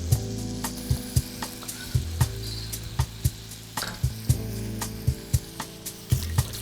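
Onion and shallot frying in olive oil and butter for risotto, a soft steady sizzle punctuated by regular knocks of a wooden spoon stirring against the pan, close up with a low hum beneath.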